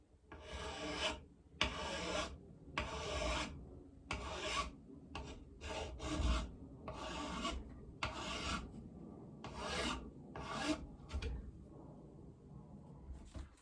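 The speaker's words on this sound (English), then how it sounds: "So I'm going to go ahead and file that round." A file rasps back and forth across the tip of a cow horn powder horn, rounding it off in a steady series of close, scratchy strokes separated by short pauses.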